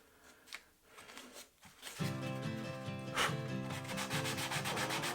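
Filler over nail holes on a painted IKEA PAX wardrobe is sanded by hand, a close, steady scratchy rubbing that swells into continuous rhythmic strokes after a quieter start.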